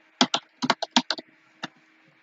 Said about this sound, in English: So let me just type in Red Sox.